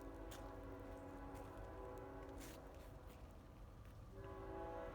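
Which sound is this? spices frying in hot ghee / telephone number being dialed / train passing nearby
train passing nearby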